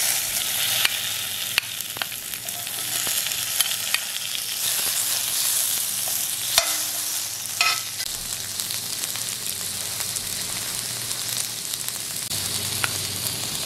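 Onions frying in hot oil give a steady, close sizzle and crackle, with occasional sharp pops and stirring clicks over the continuous hiss.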